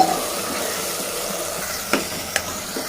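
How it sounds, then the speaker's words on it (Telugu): Cauliflower and peas being stirred in a hot pan, with a steady low sizzle of frying and a few sharp spoon scrapes and clinks near the end. "ఇప్పుడు కాలీఫ్లవర్ వేసాము ఇప్పుడు కలిపేసుకోవాలి"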